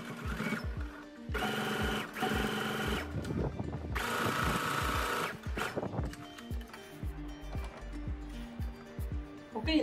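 A sewing machine stitches the side seam of a 34-inch blouse, running in close, loud bursts of rapid rhythmic needle clatter separated by short pauses.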